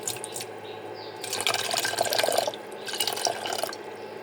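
Water splashes and trickles into a pot on a stove for making tea, a quiet, close pour that swells and ebbs in uneven bursts.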